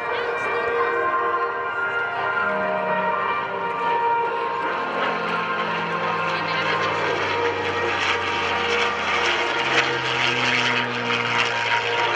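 P-51 Mustang propeller warbird passing at an airshow in Rhode Island, a loud sustained droning engine roar with shifting pitch as it flies by, steady throughout with a public-address voice faintly mixed in.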